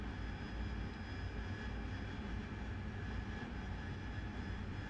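In the DCS flight simulator, an AV-8B jet's engine throttles up, a steady, even turbine drone with a faint whine, low in level and unbroken throughout, with no voices.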